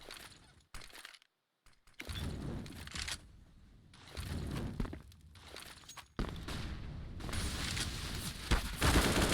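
Gunfire rings out during a competitive CS:GO esports match: bursts of rapid shots and automatic fire come in clusters separated by brief quiet gaps, loud and sharp.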